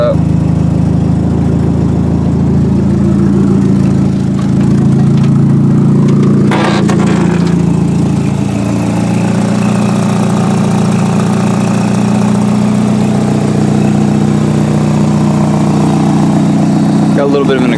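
A Nissan 240SX's CA18DET engine idles steadily and loud right after starting, a rough mid-pitched drone throughout with brief voices over it.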